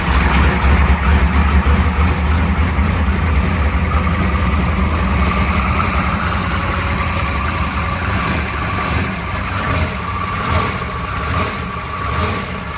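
A 1955 car engine idling after being fired up during repair work, a loud, steady low rumble that runs without a break from start to finish.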